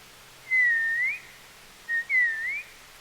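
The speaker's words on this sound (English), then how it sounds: "His song is a clear, mellow little warble" Two short, clear whistled bluebird phrases with a mellow, gliding warble, each lasting under a second, separated by a brief pause against a quiet background.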